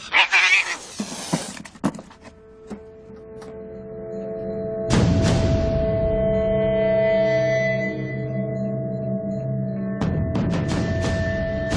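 A cat lets out long, drawn-out yowling cries, preceded by a few sharp thumps and knocks, loud and close in a quiet room.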